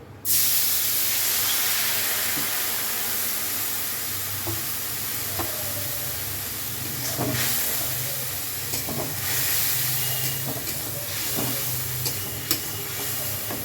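Water splashes into a hot pan of spices, turmeric and salt for pabda fish curry, hitting with a sudden loud hiss that settles into a steady close sizzle and bubbling steam.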